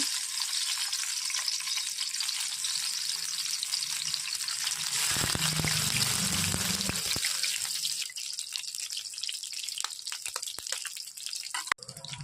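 Mustard oil hisses and crackles in a frying pan, a bright broad sizzle that rises and thickens in the middle, then thins into scattered spits and pops, with no voices.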